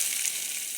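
Chopped onions fry in oil with mustard seeds and curry leaves in an iron wok, making a brief, even, moderately loud sizzle with no talking.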